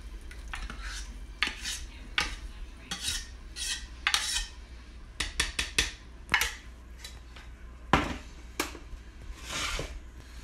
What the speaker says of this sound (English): after you drain the pasta, you want to stir it up